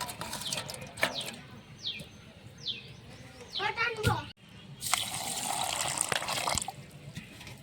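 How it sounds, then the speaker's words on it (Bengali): Water pours and splashes to rinse a plate, in short trickles and a longer splashing stretch, with someone talking nearby and chirping birds in the background. "এবার আমি একটু জল দিয়ে দিচ্ছি থালাটা ধুয়ে"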